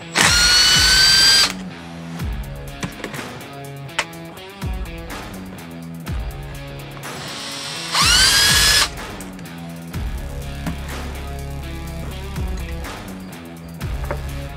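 A cordless power driver fitted with a T27 Torx bit whirs in short repeated bursts, removing screws from the fuel pressure spring cover on a 7.3 Powerstroke diesel engine, with loud high-pitched spin-ups and clicks between pauses, close by.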